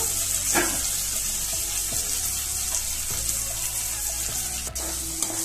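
A steady, loud sizzle of coriander frying in hot tempering oil, crackling continuously with a faint clink near the end.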